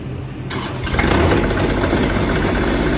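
On a cold day a Kubota tractor engine cranks and catches, a sharp start followed by a rough, loud, steady running chug close to the microphone.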